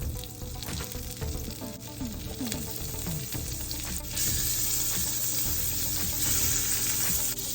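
Butter melting in a pan while making creamy salmon pasta, a soft continuous sizzle that swells slightly louder midway, with faint background clinks and hum, no talk.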